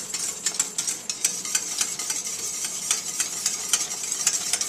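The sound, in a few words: whisking custard mixture with egg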